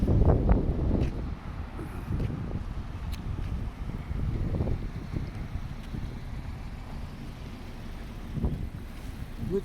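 Wind gusting outdoors on a cold day during a walk through city streets, rough low rumbling buffets against the microphone rising and falling, with faint background traffic.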